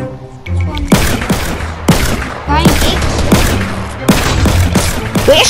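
Rapid bursts of gunfire in Fortnite during a deathrun map, loud, repeated shots and booms in quick clusters roughly once a second, with no talk over them.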